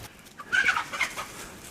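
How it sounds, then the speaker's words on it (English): Chickens in a backyard garden cluck and squawk in a brief scuffle, sharp agitated calls bursting out close by against quiet outdoor background. "Got a chicken fight going on over there."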